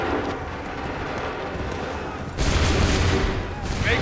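A musket volley from a line of soldiers in the video game Assassin's Creed III breaks out as a sudden loud burst of crackling gunfire over battlefield noise, with a second burst just after.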